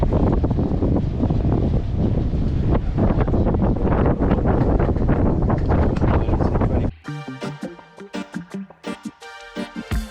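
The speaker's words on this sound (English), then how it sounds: "It's just really, really windy and there's no shelter anywhere." Strong wind blasting across the microphone aboard a sailboat, a loud, roaring buffet that dominates for about seven seconds before cutting out abruptly.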